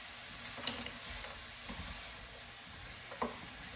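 Cashew chicken ingredients with red pepper flakes are stirred in a hot pan. A steady sizzling hiss runs throughout, with a few soft clinks of utensil against the pan and no talking.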